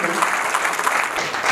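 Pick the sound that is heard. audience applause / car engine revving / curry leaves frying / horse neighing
audience applause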